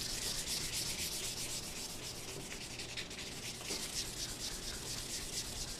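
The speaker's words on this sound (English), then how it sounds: "Sand that into the wood." Close, steady rubbing of 400 grit sandpaper across a wooden gun stock, a continuous dry scratchy hiss with no pauses, heard alone.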